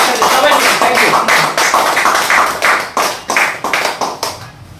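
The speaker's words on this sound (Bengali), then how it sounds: "সবাই একটু করতালি দিয়ে সম্মান জানাবেন একসাথে সবাই" An audience claps together in honour of a guest being presented with a bouquet, loud, steady applause in waves with some voices mixed in throughout.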